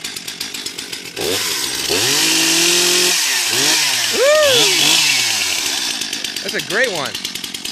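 A chainsaw revs and idles nearby in loud bursts, its pitch rising and falling as the throttle is worked, while people talk and call out over the engine noise.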